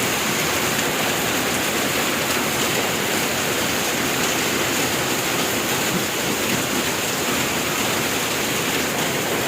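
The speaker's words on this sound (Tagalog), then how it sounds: "Malakas na ulan guys." Heavy rain pours down in a loud, dense, unbroken hiss, heard from an office, close and constant throughout, with no voices.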